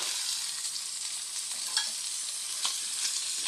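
Baguio beans cook in a pan with a steady, bright frying sizzle, close and even, broken by a few faint stirring clicks and scrapes.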